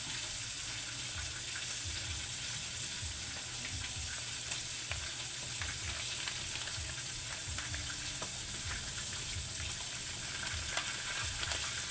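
Tulingan fish simmers in coconut milk over a low fire, giving a dense, steady bubbling sizzle with a low rhythmic burble underneath, continuous and close, with no talk.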